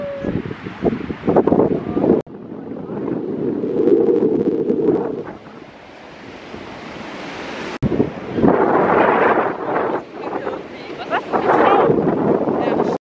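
Wind buffets the microphone at a Dutch seaside spot, roaring in strong gusts with brief lulls, while voices talk intermittently beneath the rushing noise.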